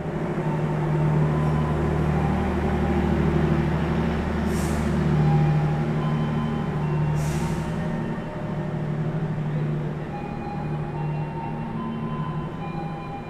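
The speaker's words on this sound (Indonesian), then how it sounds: "rangkaian kereta api Harina Pagi sudah masuk di jalur nomor 1 ya teman-teman" The KA Harina executive train, with mild steel executive cars, rumbles into Surabaya Pasar Turi station with a loud, steady low drone, and two brief air hisses cut through it.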